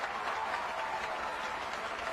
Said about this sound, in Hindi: अब तालियां बंद भी करो बुद्धू कहीं के